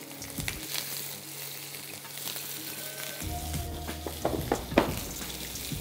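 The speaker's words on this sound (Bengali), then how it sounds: "সেটা টমেটো দেওয়ার পর আবার একটু ভেজে নিয়ে" Tomato paste sizzling and frying in a pan while a Bengali chital fish muitha dish is cooked, with a steady crackling hiss, stirring scrapes and clatters building toward the end.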